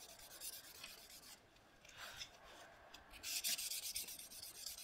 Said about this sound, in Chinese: 你就保持这个皮边在同一个方向、同一个角度上去摩擦这个砂纸就好了